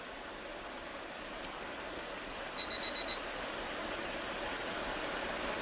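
An alarm clock gives a short burst of four quick, high electronic beeps midway through, partly masked by a steady rushing, rain-like noise that fills the whole stretch.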